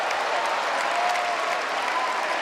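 Basketball arena crowd at a finals game applauding an offensive foul call, a steady dense patter of many hands clapping at once, loud and sustained from start to finish.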